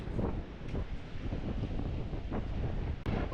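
Steady, roaring wind buffets the microphone at a surf beach, a constant broadband rush with gusty swells and no voices.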